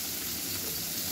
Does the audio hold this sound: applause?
no